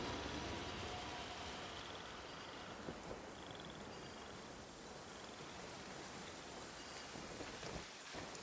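Steady rain falls in the Genshin Impact video game, a soft, constant hiss of drops on surfaces, faint and even throughout with a brief low rumble near the end.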